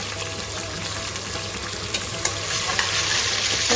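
Onions sizzle and fry in hot oil for a Hyderabadi vegetable biryani, a steady close crackling hiss with occasional stirring clinks, no voices.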